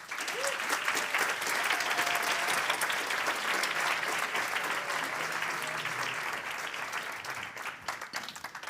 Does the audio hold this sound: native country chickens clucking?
no